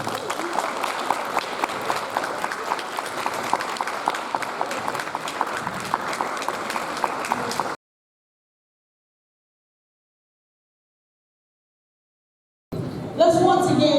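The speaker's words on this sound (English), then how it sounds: "Let's once again give Mr. Alcorn another big round of applause." Audience applause for a speaker at a middle school Black History program, a dense sustained round of clapping from a crowd that cuts off abruptly into silence, then briefly resumes at the end.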